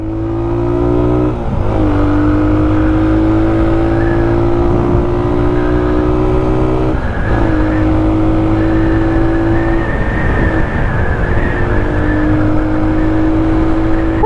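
Suzuki Raider 150 motorcycle fitted with a Vmax racing exhaust, its engine running loud and close with a steady buzzing idle and a few blips of revving, heard alone without talk.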